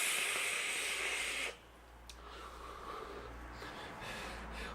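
A long hissing exhale of pomegranate-flavored vapor, strong and close for about a second and a half, then cutting off to faint room hiss with no talking.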